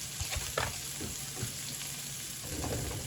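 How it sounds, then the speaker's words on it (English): Eggs scrambled together with chorizo in a frying pan, a steady close sizzle with soft scraping stirs and occasional light clinks of the utensil, no talking. "And just scramble those up, and with the chorizo, just scramble up into those eggs."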